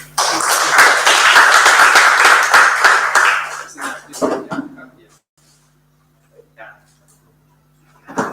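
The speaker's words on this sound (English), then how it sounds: "Let's give him a warm round of applause" A warm round of applause for a speaker at a small unveiling function, several hands clapping closely for about four seconds before tapering off into scattered claps and near silence, with a faint steady hum and a brief sound at the end.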